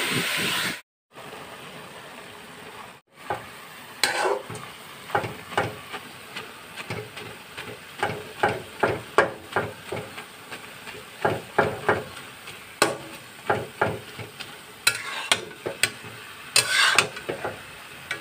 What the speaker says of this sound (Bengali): চিংড়ি মাছ দিয়ে লাল শাক দিয়ে রান্না করব।